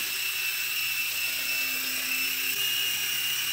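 A Blade mCX2 micro RC helicopter hovers nearby with a steady, high-pitched rotor whine and electric motor buzz that holds constant throughout, with no talk over it.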